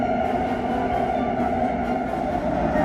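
Warsaw metro train built by Skoda running underground, a loud, steady interior rumble with a droning motor tone and faint rhythmic rattling, heard from inside the carriage with no talk.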